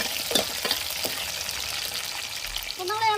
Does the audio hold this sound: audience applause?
no